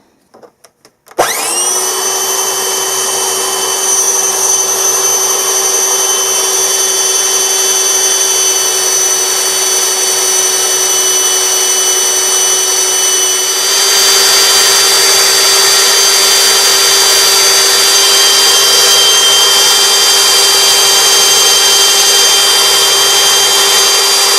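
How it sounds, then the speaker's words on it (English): A belt sander runs steadily, starting up abruptly and holding a loud, high whine while a handle for a DIY GoPro pole is held against the moving belt, the tone shifting slightly as the wood is sanded. "I'm just going to hold this thing along the belt as it runs and sand off a little bit"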